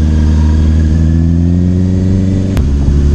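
An auto rickshaw engine runs loud and close while the vehicle is stopped, a steady low throbbing idle with a brief sharp click partway through.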